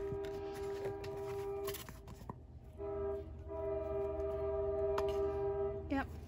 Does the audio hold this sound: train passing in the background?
yes